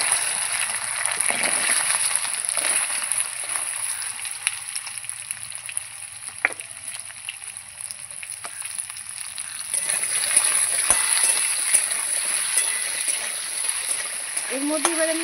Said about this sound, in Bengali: তেল গরম হয়ে গেছে, আমি গাঠি কচুগুলো দিয়ে দেবো এবার।